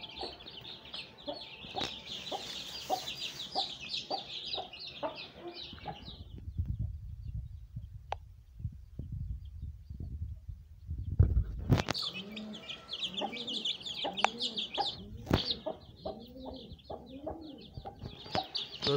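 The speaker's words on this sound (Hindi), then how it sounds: "पहले जाते हैं अपने मुर्गी के पास और उसके बच्चों को देखते हैं।" A hen clucks softly and repeatedly while chicks cheep in high, constant peeps nearby, broken by a brief rustling pause before both resume.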